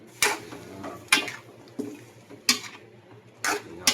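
Pork and chicken adobo is stirred in a pan, with five distinct scraping clatters of a utensil against metal spaced about a second apart over a faint background hum.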